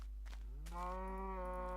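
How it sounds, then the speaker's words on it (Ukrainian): A cow in the video game PlayCraft gives one low, sustained moo that swells and holds for about a second, close and distinct, after some faint background noise. "Блін, це корова."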